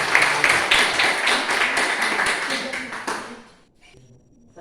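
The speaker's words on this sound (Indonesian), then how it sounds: "berikan tepuk tangannya." Classroom applause as students are told to sit down, brisk, dense clapping from a small group nearby, tapering off after about three seconds into near quiet with a few stray sounds.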